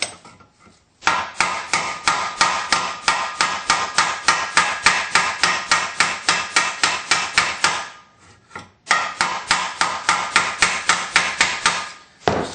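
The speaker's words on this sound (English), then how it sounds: "Hammer it flat." Rapid, regular hammer blows flattening a Chevy S-10 metal valve cover on a flat surface ring out close by in two long runs, separated by short pauses.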